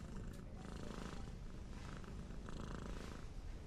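A steady, low rumbling purr from a cat, continuous and close, with no voices over it.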